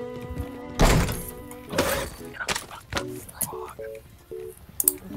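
Mortar fire in Warzone comes as a sharp, loud thunk followed by a second heavier burst a second later, then scattered smaller impacts, while a person talks in between.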